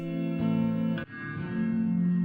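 Electric guitar sustaining chords through a blend of medium and long reverb returns, a lush wash with one brief re-strike near the middle, clean and alone with no voices.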